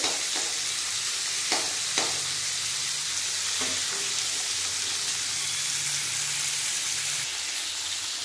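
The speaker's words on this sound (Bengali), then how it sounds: "কাঁচা লঙ্কাগুলো দিয়ে দিলাম তেলের মধ্যে।" Green chillies sizzle steadily in hot oil in a pan for a vegetarian posto dish, a continuous close crackle with a few sharper pops and light stirring, no talking.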